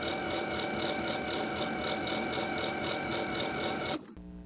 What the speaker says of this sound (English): we're going to stitch that hem in place close to the raw edge once again